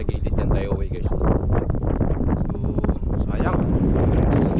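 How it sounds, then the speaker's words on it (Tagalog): Strong gusting wind buffets the microphone outdoors with heavy low rumble and rustling throughout, loud and continuous, with a voice talking over it. "grabe na nga kalakas yan o, hangin na"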